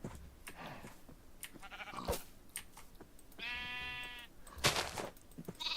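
A sheep in a video game, waiting to regrow its wool, gives a clear sustained bleat amid scattered clicks and thumps of gameplay, with short sharp game noises before and after.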